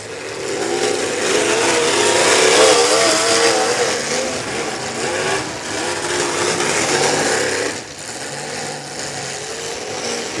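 Cars at a demolition derby in Mobridge, South Dakota, rev their engines in a loud, sustained roar that rises and falls, easing briefly near the end before surging again.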